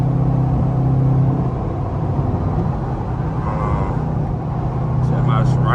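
A straight-piped Pontiac G8 GT cruises from inside the cabin, its exhaust a steady deep rumbling drone that stays loud and continuous throughout.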